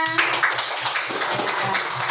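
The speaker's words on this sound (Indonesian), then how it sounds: "Tepuk tangan untuk temannya" A classroom group claps together in a quick, scattered burst, fairly loud and close, with faint voices mixed in.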